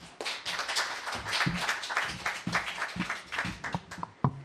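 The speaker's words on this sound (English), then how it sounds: "Please give her a warm round of applause and get comfortable." An audience at a literary reading event claps in a brief, fairly light round, with distinct individual claps and taps that stay close and uneven for a few seconds.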